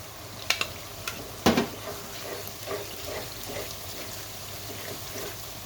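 Ground red chili, cumin, garam masala and ginger-garlic paste fry for beef tongue bhuna, a low steady sizzle broken by a few sharp utensil clinks and scrapes against the pot early on.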